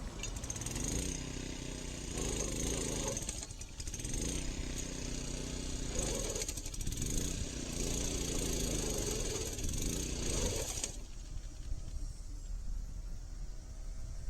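A mower stands in place with only its blade spinning, grass tangled around it, making a loud, rough, chopping engine drone with rhythmic surges that cuts off abruptly near the end, leaving quieter residual noise.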